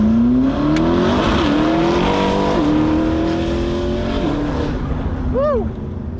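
A 1000-horsepower McLaren accelerates hard through several gear shifts, its engine note climbing loud and close in steps, then backing off, with people talking over it.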